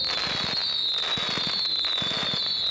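Fireworks burst continuously during a pyrotechnics demonstration, with dense crackling and repeated low booming thumps in clusters over a steady high hiss, loud and close throughout.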